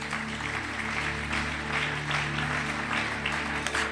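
A church congregation applauds after a reading of the Holy Scriptures, a dense, steady clapping from many hands that fills the room from start to finish.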